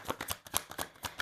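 Osho tarot cards being shuffled by hand in a quick, rhythmic series of soft riffling bursts, close and moderately loud, with no talking.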